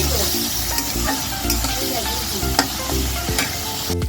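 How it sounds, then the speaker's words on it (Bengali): Shrimp fry and sizzle hard in a wok, a dense steady hiss with repeated sharp scrapes of a spatula stirring them, close and loud, no voices. "চিংড়ি মাছটাকেও এখানে ভালো করে একটু ভেজে নিচ্ছি"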